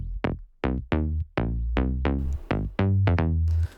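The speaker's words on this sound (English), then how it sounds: "it's just a relatively simple bass with a sub under it." A synth bass with a sub bass underneath plays a punchy, plucked riff of short notes in a bouncy rhythm, each note decaying quickly, deep and prominent with a heavy low end and no voices.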